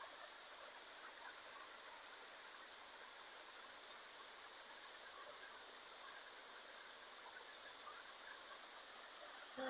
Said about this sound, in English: Yeah, here's the waterfall.